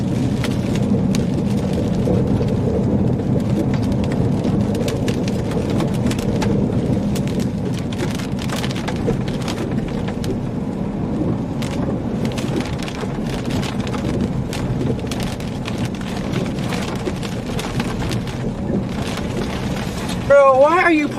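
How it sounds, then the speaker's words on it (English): Dense rain and hail drumming on a storm chaser's car during a severe thunderstorm in Minnesota, a steady close patter of sharp hits lasting throughout, with a brief louder burst at the end. "So we're gonna go poke the hail core."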